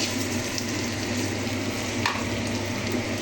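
Rice tipped into a kadai for khichuri, with turmeric already in the pan, fries with a steady, dense sizzle and a soft scrape of stirring partway through; no one speaks.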